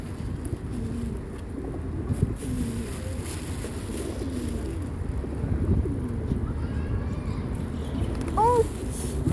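Pigeons feeding in a flock in Tashkent give soft, low cooing calls over a steady outdoor background, with a brief higher call near the end and faint voices nearby.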